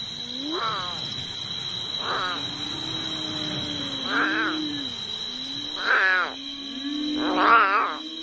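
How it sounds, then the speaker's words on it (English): An abandoned lion cub cries at night, five drawn-out plaintive wails spaced a second or two apart against a steady high insect drone, with a low voice murmuring underneath. "The plaintive cries of the abandoned lion cub echo through the night."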